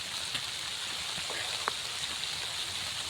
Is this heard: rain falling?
yes